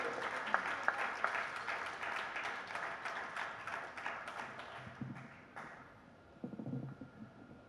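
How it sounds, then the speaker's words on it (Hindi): An audience at a Hindi poetry recital (kavi sammelan) claps together, a dense crackling wash of applause that runs steadily for several seconds, then thins and fades with a few scattered late claps. "एक बार मिलकर तालियां बजा दीजिए पीके आजाद से।"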